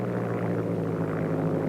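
A steady, droning WWII-era propeller-plane engine straining in a nose-up climb, running at a constant loud pitch, laboring continuously with no pauses.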